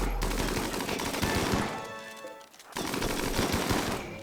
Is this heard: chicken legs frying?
no